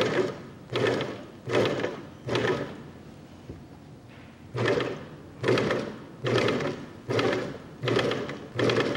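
A National binding machine stitching binding, its feed running in repeated bursts of steady mechanical whirring with a short pause partway through, fairly close and with no voices.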